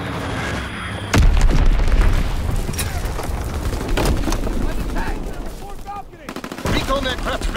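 A Fritz X bomb strike in Call of Duty: WWII multiplayer lands as a sudden loud boom, followed by dense rolling gunfire and rumbling blasts that continue through the scene.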